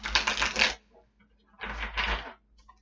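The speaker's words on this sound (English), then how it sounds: "Let's get these nice and shuffled." Tarot cards being shuffled by hand, two close, crisp bursts of riffling and rustling separated by a short pause, loud and clear with no voice over them.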